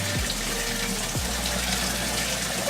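A pump drains water during an aquarium water change, giving a steady loud rushing, gushing flow with a low hum underneath and two brief falling tones near the start.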